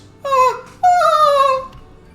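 A dog companion in Final Fantasy XIV gives two clear, close whimpering yelps, the first short and falling, the second longer and wavering, with quiet background between them.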